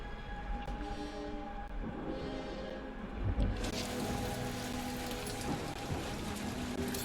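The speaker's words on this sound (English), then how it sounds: "Peter Quill is dilly-dallying in the rain" Steady rain falls in the video game Guardians of the Galaxy, a continuous wash of drops with a low rumble and faint tonal game ambience underneath, with no talking.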